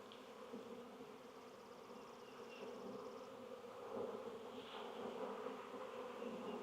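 Honey bees buzz continuously around a hive frame in a bee yard, a dense, faint, steady hum that swells slightly toward the end, with no voices.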